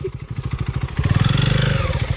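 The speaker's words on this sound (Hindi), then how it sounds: "मैं कब चलाऊंगी ऐसे बाइक" A KTM RC 390 sport motorcycle engine revs hard and close, a rapid pulsing roar that climbs in pitch and holds steady, loud and with no talk over it.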